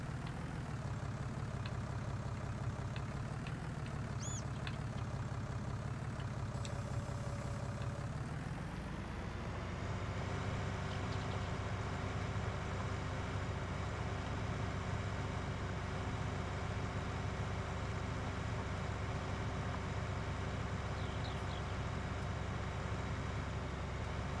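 A tractor engine in the video game Farming Simulator 19 drones steadily and close, its low rumble shifting pitch partway through as it works harder and then settles into an even hum.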